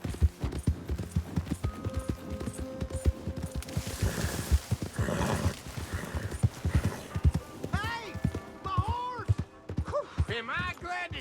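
Horse hooves clip-clop steadily in the Red Dead Redemption 2 video game, followed by several sharp, whinnying neighs near the end, with voices talking over parts of it.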